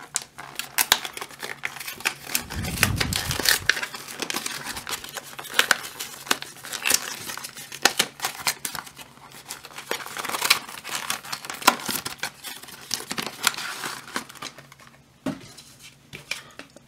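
Crinkling and tearing of a foil wrapper on a Yu-Gi-Oh Flames of Destruction Special Edition card pack: a long run of close, crisp rustles and crackles with a few sharp rips and soft handling thumps.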